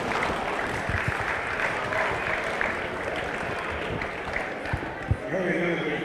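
A crowd at a boxing hall of fame event claps in a moderate wash of applause with a few sharper individual claps. Low murmurs and faint voices sit underneath, and a louder thump lands near the end.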